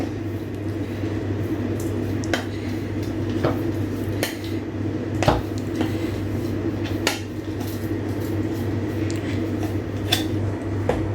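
Ground dates mixture going into a bowl of roasted ragi for laddu brings scattered spoon-on-bowl clinks and knocks, spaced irregularly over a low steady kitchen hum.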